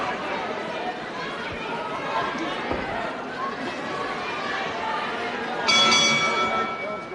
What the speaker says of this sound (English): So there it is, the bell to end round 1